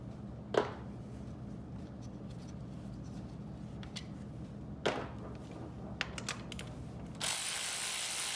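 A ratchet loosens 10mm bolts on Corvette C5 headers, with a few short clicking ratchet bursts and sharp knocks over a steady low hum, close and fairly faint.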